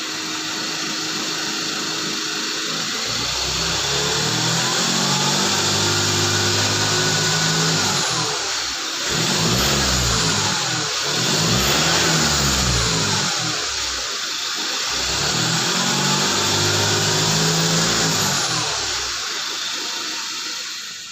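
A Ford Ranger diesel engine runs loudly nearby with a broad roar after an intercooler cleaning, revving up and down in slow swells, no talking.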